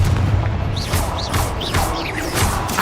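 Fiery blasting spell explosions in the Hogwarts Legacy video game, heavy low booms and crashes going off in quick succession with whooshing magical bursts layered over continuous battle noise.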